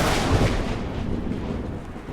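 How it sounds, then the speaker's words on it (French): Thunder booms during a violent storm, a deep, loud rolling rumble that swells early and then trails off steadily without any speech. "un orage très impressionnant éclate"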